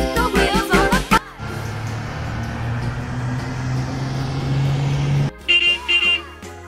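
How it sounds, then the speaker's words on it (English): A bus horn sounds one long, steady honk of about four seconds over a low rumble, with brief bursts of music just before and after. "Bus."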